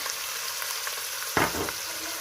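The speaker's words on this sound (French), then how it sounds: "j'ai mis un filet d'huile d'olive et je vais mettre directement ma viande. J'ajoute directement les oignons" Meat and onions frying in olive oil for harira, a steady bright sizzle that surges sharply as food hits the hot pan, then settles back to a constant crackle.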